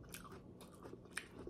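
Close, quiet bites and wet chewing of papaya during a Filipino meal with chicken tinola, a few soft crunchy mouth sounds spread over a short moment with one sharper bite near the end.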